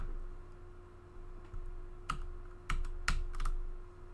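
Computer keyboard keys clack in scattered bursts during a round of Roblox Funky Friday, with several sharp, close presses over a faint steady hum.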